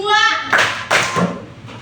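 A primary school class claps hands in a classroom, two sharp group claps close together, with children's voices around them.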